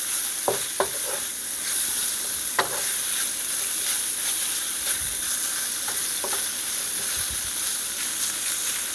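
Beef and bell peppers sizzle loudly in oil in a pan, a dense, continuous hiss close by, with a few distinct clacks and scrapes as the pieces are stirred and coated.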